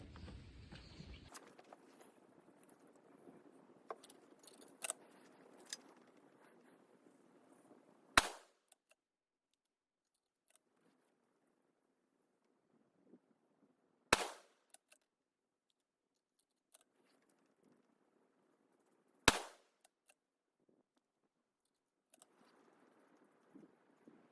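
Three sharp .243 Win rifle shots with 90 grain ELD-X loads over H4350 powder, spaced several seconds apart, each a loud crack with a short decay, between quiet stretches with faint handling clicks and low background noise.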